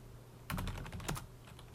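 A console password is tapped out on a computer keyboard while a Packet Tracer router exercise is being set up: a quick run of about half a dozen close, crisp key clicks, with no voices.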